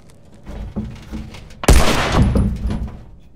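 A single loud, close gunshot from The Last of Us Remastered on PS5 cracks out after a quiet moment, followed by a short echoing tail.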